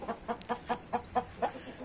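An Indian gamefowl hen clucking while sitting in her nest, giving a steady series of about eight soft, evenly spaced clucks, close and fairly quiet.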